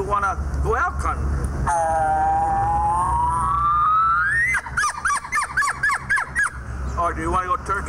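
An elk bugle imitated on a turkey mouth call, a long rising whistled squeal that climbs steadily before breaking into quick chirping grunts, loud and close, with talk at the start and end.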